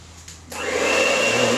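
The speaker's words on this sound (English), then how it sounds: "So that's what exactly I'm going to do with my hand mix." An electric hand mixer whirs to life in cake batter for cake pops; after a quiet half second it kicks in loud and close, then holds a steady high-pitched motor drone.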